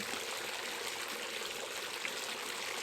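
Freezing-cold well water runs from a hose into an Intex Easy Set pool, a steady soft broadband rush of pouring and trickling water, faint and continuous with no talk.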